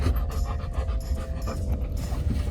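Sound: dog panting

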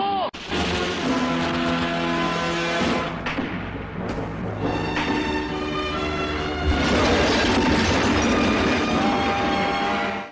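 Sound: train passing on railway in a film

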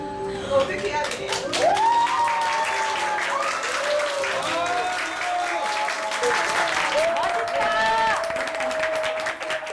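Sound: baseball crowd cheering and applauding

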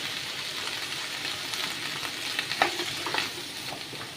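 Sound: tomatoes and chillies sautéing in pan

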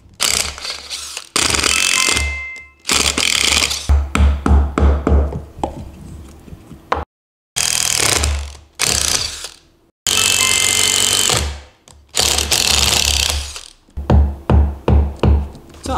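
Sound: drilling a hole in wood with a countersink drill bit

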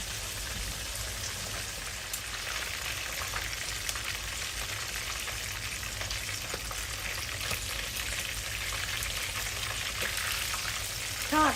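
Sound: frying fresh mackerel in a pan

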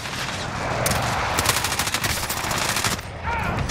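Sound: gunfire in video game Call of Duty Warzone

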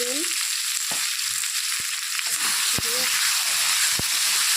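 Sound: potatoes and pointed gourd frying in oil

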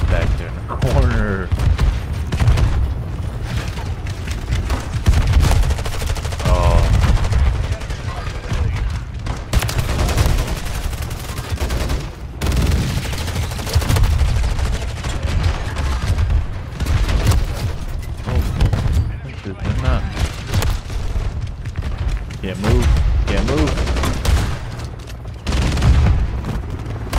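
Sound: shotgun gunfire from the video game Call of Duty MW3

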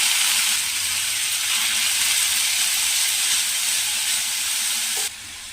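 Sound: cabbage frying in a pan

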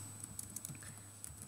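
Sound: typing on a computer keyboard

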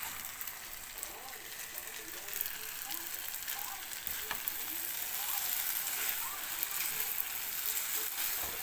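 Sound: stir-frying glass noodles with cabbage in a pan

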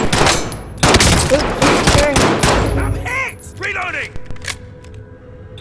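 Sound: gunfire in the video game Call of Duty Warzone

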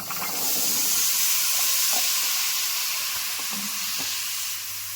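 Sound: cauliflower stalks poured onto frying spice paste, sizzling

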